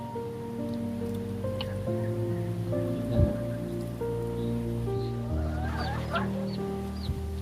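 Steady rain patters on a surface near a rural hut while chickens cluck intermittently close by, with a brief soft voice in the middle.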